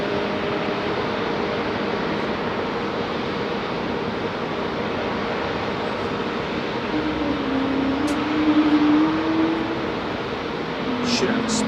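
A Spitfire flies over at an air show, heard as a steady, broad engine drone that swells slightly with a faint rising tone partway through, fairly distant under general outdoor background noise.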